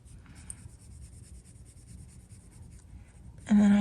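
A pencil shading a tester page for a holiday coloring project makes a soft, continuous scratchy rub on paper, close and quiet, ending with a sudden louder tonal burst.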